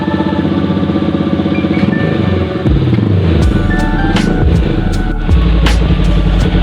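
Motorcycle engine with a freshly tuned carburetor, running at a loud steady idle with a deep throbbing note, then revving up in several quick throttle blips that rise in pitch and drop back.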